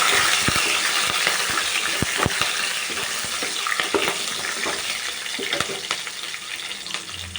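Four slit green chillies frying in hot tempering oil over a medium flame for gongura pulihora, a steady loud sizzle with crackling pops and occasional stirring clicks throughout.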